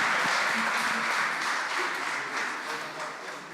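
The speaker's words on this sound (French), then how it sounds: "félicitations et applaudissements chaleureux à tous ces récipiendaires qui sont allés jusqu'au bout" Warm, steady applause fills the room at an award ceremony for the recipients, a continuous crowd of clapping hands at moderate distance that tapers slightly toward the end.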